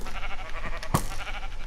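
A sheep in the Minecraft video game bleats with a short, nasal, wavering cry, accompanied by a sharp click partway through amid soft background game sounds.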